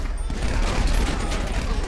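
Dense, continuous automatic gunfire from the video game GTA Online, a loud unbroken rattle lasting the whole two seconds with no pauses between shots.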